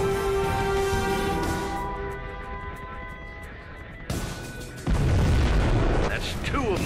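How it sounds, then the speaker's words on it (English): A nuclear missile launches in Command & Conquer Generals Zero Hour, with a rising rumble and deep boom building into a heavy roaring blast near the end, under game voices and music. "We have launched our nuclear missile."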